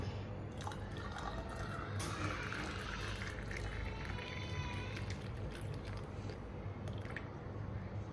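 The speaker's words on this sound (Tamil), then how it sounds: "அப்படியே ஊற்றிக்கிறேன் அப்புறம் சுட வச்ச இந்த ஹாட் வாட்டர்" Hot water pours steadily into a glass of freshly squeezed lemon juice, a continuous soft liquid trickle and splash that runs evenly throughout at low level.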